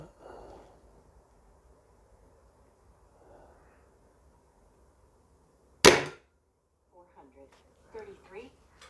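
Weihrauch HW95C spring air rifle firing a 21.8-grain pellet: one sharp, loud crack after quiet seconds with faint murmuring voice, followed by soft handling clicks and rustles.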